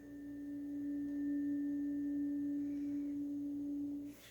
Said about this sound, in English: when I strike this on my shoe, it'll vibrate. And when I hold it next to the tube